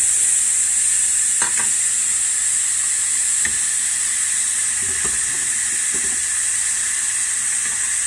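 Pork, beef, celery, carrot, onion and garlic frying in a pan, a loud steady sizzle and hiss throughout with occasional soft stirring clunks and scrapes.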